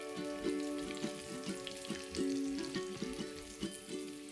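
Sweet potato cutlets frying in hot oil in a pan, a continuous moderate sizzle with soft bubbling swells and occasional small pops, close by and with no voices.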